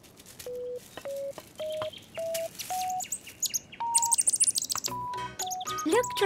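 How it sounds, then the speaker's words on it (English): Cartoon baby bird in its nest chirping in a series of short, evenly spaced tonal peeps, close and clear, followed by a burst of higher, busier twittering and rising calls near the end. "This little bird needs his mummy and daddy."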